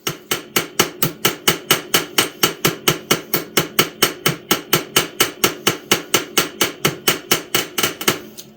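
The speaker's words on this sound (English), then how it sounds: "Just want to get this one side peened, and then we can trim it down on the other side." Hammer peening a pin on a vintage folding knife during restoration: a steady run of about thirty sharp, evenly spaced metallic taps, close and loud, with no voices.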